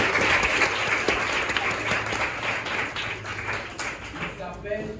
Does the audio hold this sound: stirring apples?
no